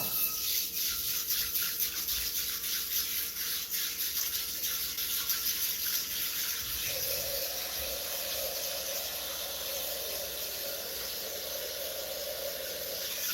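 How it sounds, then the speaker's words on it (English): Tap water running steadily into a kitchen sink at home during cooking, a continuous broadband hiss that shifts in tone partway through as the flow changes, with no talking. "I'm going to run some water."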